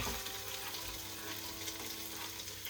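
Onions frying with ginger garlic paste in a pan for home-made chicken biryani, giving a steady, dense, fairly faint sizzle that continues without a break.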